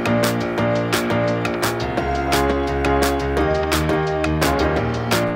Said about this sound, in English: you're going to notice I do have this main piano sound,